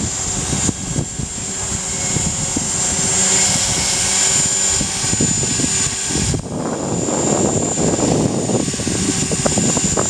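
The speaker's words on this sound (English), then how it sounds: "You can tell it makes a slightly different motor noise with the governor on it" A small RC helicopter's motor, running in governor mode, whines steadily with whirring rotor noise, close and loud, shifting slightly in pitch partway through, with wind buffeting.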